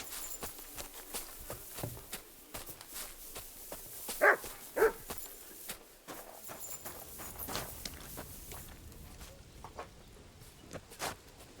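A dog in the medieval video game Kingdom Come: Deliverance II gives a couple of sharp barks near the middle, set among soft footsteps and light hoof-like clopping.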